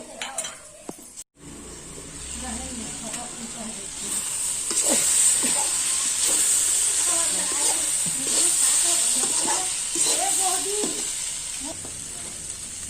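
A spoon stirs papaya curry with garlic-ginger paste in a hot pan, scraping and clinking against the metal over a constant frying sizzle and hiss that swells after the first few seconds.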